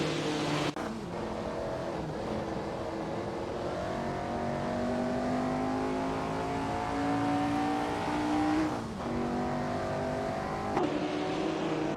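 1950s sports cars roar around a track in a racing simulator game, their engines droning continuously with rising and falling pitch as they shift gears, with no voices.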